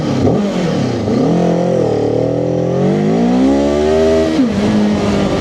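Cyclone RC600 motorcycle revving hard and accelerating up through the revs, a loud, close engine roar with rising and falling pitch that runs the whole time without a break.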